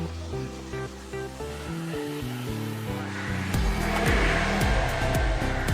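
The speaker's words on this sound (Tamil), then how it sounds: "அப்புறம் இதை மிக்சியில் பவுடராக அரைச்சி எடுத்துக்கிடுவோம்" Electric mixer grinder in a home kitchen grinding dry ingredients into powder for spicy dosa batter, a loud steady motor whir that swells and roughens over the last seconds, with no talking.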